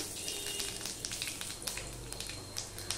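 Panch phoron five-spice seeds crackle and sizzle in hot oil left in a pan after frying murola fish, a steady close hiss with faint, fine pops throughout.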